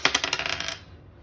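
A purple six-sided die clatters across a hard surface in a quick run of bright rattling bounces that fade within a second, close and alone.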